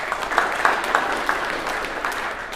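Scattered applause from a business conference audience, a modest patter of clapping with a few sharper claps standing out, fairly steady and thin over about two and a half seconds.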